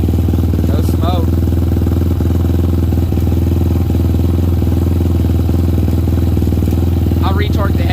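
A rebuilt Daytona Anima motorcycle engine idles steadily and loudly close by, with a brief blip of revs near the start and again near the end, and some mechanical clatter.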